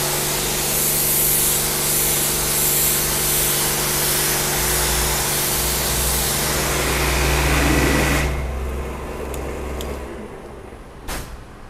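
A powerful pressure washer at a car care center blasts a loud, continuous hissing spray for about eight seconds, then cuts off, leaving quieter machinery and a few faint clicks.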